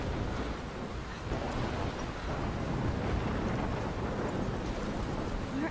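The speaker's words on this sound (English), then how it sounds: "I'm trapped in a storm?" A thunderstorm with rain in the video game Life Is Strange: a dense, steady wash of rain and rumbling noise, loud and unbroken throughout, with no voices.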